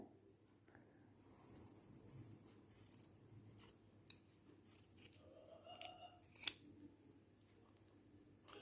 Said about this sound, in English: take the leftover balloon, take the scissors and cut it from right over here.